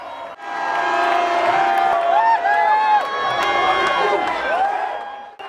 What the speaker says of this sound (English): The crowd went nuts when Croatia scored.